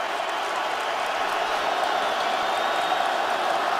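A dense, steady roar of a large football stadium crowd at a Falcons at Lions game rises from a distance, with a broadcast commentator's voice faintly under the din.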